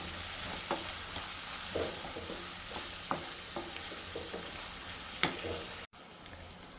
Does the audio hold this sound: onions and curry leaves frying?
yes